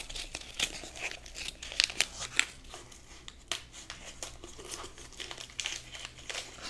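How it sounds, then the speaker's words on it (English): Tape being pulled and pressed on as an extra layer to seal a homemade trumpet built from funnels, giving close, irregular crinkling and tearing crackles with a few sharper snaps and no talk. "I'm just adding another layer of tape to create a seal."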